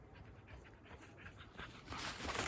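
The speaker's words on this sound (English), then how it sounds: "bloody dog" A dog named Jella pants steadily and close by on a walk, quick rhythmic breaths that grow louder toward the end, with no talk.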